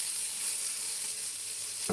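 Steady broadband sizzle of rice noodles frying in a hot pan, a continuous hiss with a brief clatter near the end.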